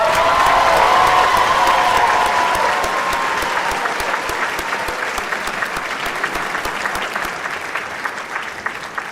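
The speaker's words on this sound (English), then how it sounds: "One more round of applause for our graduates." Audience applause at a spring graduation ceremony on a technical college campus in Waco, a dense, sustained clapping that stays loud throughout and eases slightly toward the end, with faint voices mixed in.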